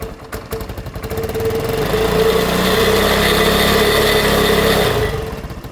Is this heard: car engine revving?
yes